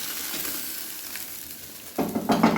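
Tangra fish fry in a wok with a soft, steady sizzle, followed near the end by louder clattering scrapes as the fish are stirred and lifted out.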